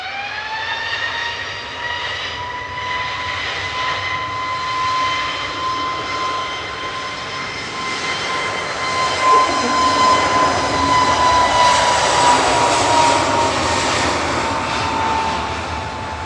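An airliner departing Manchester Airport on flight 1033 to Ibiza gives off a loud, steady jet whine over a broad rumble that swells partway through and holds strong.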